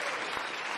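A short burst of audience applause, a dense wash of clapping filling the whole moment, loud and close.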